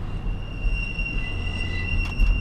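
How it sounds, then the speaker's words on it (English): Train wheels squealing on the track in steady high-pitched tones over a deep rumble, heard from nearby at a crossing with several tracks, loud and continuous, with no talking. "Man, that train is really squealing"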